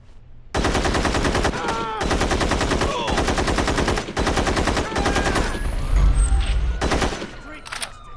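Loud bursts of automatic gunfire in the Gangster Vegas video game, with several sustained volleys separated by short pauses. Shouting voices and scattered effects are mixed in toward the end.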